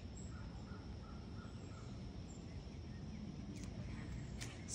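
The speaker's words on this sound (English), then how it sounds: "The birds are chirping." Outdoors in a breezy evening, birds call faintly in the distance, crow-like caws rising over a steady background of wind and ambient noise.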